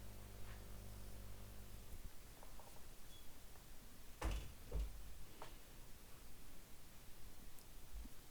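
A door being shut indoors gives two dull thuds close together partway through, each short and low, over a steady hiss of room noise.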